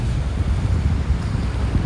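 A strong, chilly breeze rushes across a beach in North Naples, Florida, as steady, low, buffeting noise against the microphone with a faint wash of surf behind it, and no voices.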